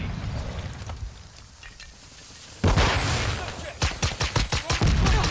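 Gunfire in Call of Duty Modern Warfare 2 multiplayer: after a quieter stretch with scattered distant shots, a sudden loud burst of rapid automatic fire hits, continuing in a sharp rhythmic string of close shots to the end.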